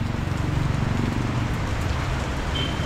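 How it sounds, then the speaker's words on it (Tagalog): Heavy rain pours steadily in Manila, a dense, constant hiss and patter that stays loud and even throughout with no voices. "ang lakas ng ulan"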